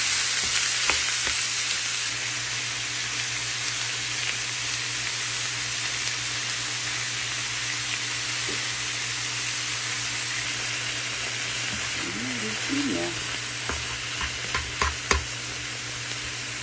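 Shrimp stir-fried in a pan for egg foo young, a steady loud sizzle with a low hum under it and a few sharp scrapes and clacks of the utensil near the end, with no voices.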